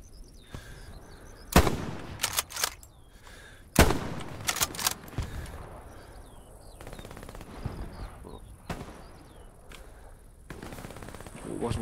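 Machine gun fire in a World War II Battle of Kursk battlefield video game crackles through the scene, with a few loud nearby shot clusters over a steady background rattle of distant gunfire.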